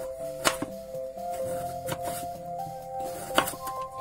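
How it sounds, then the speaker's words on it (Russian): A few sharp knife chops cut carrots and onions on a board at irregular intervals over a low steady hum, close but not loud. "Итак, нарезаем морковь и лук."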